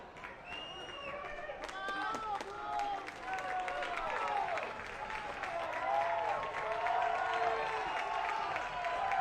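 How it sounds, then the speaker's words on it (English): Fans cheer and clap during a Lexington SC vs. Brooklyn FC soccer match, a broad swell of crowd noise that builds steadily beneath a commentator's ongoing talk. "The fans cheering on, liking the progress and the barrage of sorts"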